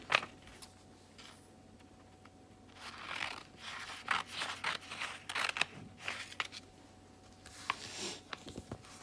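Scissors cut through paper for a scrapbook mini album page: a few quiet, separate snips and crisp paper rustles with pauses between them, in an otherwise hushed room.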